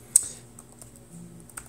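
Keys on a Chromebook keyboard click in a few light, sparse taps, one sharper keystroke near the start, quiet and close with no talk.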